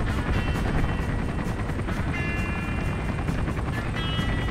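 Several helicopters fly overhead in Call of Duty: Black Ops, a loud continuous rotor roar with rapid blade chop and whining turbine tones drifting in and out, heard alone without talk.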